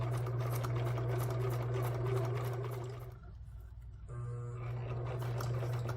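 A sewing machine runs steadily, stitching edge trim and binding onto a sewing-pattern-cover junk journal, a loud continuous motor hum that pauses briefly near the middle before starting up again, with no talk.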